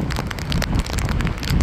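Rain falls outdoors in cold, windy weather, a dense irregular patter of drops striking surfaces, close and steady for a short stretch, with wind noise mixed in and no voices.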